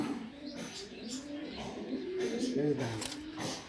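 Soft, low racing pigeon coos rolling in under a man's close speech, faint and intermittent.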